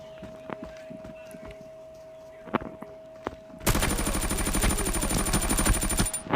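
Rapid automatic gunfire in the shooter game Arena Breakout, a dense sustained burst of loud close shots erupting after a few sparse isolated reports and low background noise.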